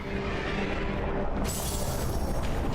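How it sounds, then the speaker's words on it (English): A blast goes off in the action game AI Limit, a loud roaring burst that surges into a broad, sustained rumble partway through, close and filling the space, with no voices. "Ah, explosion."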